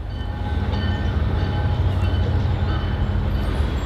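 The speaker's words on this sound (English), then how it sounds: "There's a train going by." A train rumbles past beyond a garden with pruned bonsai cedars, a steady, loud, low roll of rail noise that holds throughout with no voices.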